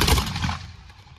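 A musket volley fired at an English Civil War display at Stonham Barns Park: a single loud, close blast that rolls off into a fading rumble over about a second.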